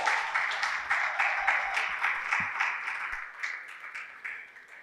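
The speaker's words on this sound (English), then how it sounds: "A huge round of applause, please." A conference audience at a plenary session of a PMI Ghana event gives a round of applause, the clapping pulsing in uneven waves throughout at moderate distance.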